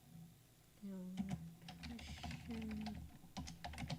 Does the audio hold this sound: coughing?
no